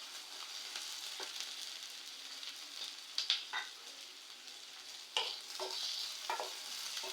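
Green chillies and onions frying in hot oil for egg curry, a continuous close sizzle broken by a few sharp scrapes and clacks of a spoon stirring the pan.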